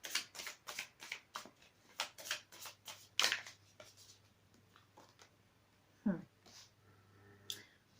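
Osho Zen tarot cards being shuffled, with soft, quiet riffling bursts in an irregular rhythm, a sharper handling knock near the middle, and faint low room hum beneath.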